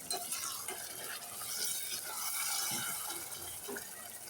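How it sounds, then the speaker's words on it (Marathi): Hot water is added to mixed vegetables in a cooking pot for a restaurant-style mix veg bhaji, giving a steady, moderately loud wet hiss and splash that runs continuously with no talking. "मी गरम पाणी ॲड केलेलं आहे इथं गार पाण्याचा आपल्याला अजिबात वापर करायचा नाही थोडंसंच आपल्याला गरम पाणीच घालायचं आहे"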